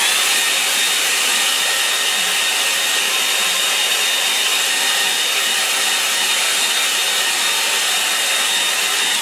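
A hair dryer blows steadily over a wet watercolour tone study of a lake, a loud, close, unbroken whir of air and motor lasting throughout with no voices.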